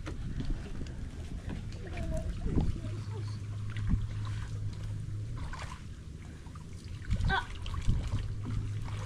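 A small wooden outrigger boat (bangka) moves along on the water with a steady low engine-like drone, wind noise and scattered splashes, while voices talk now and then nearby.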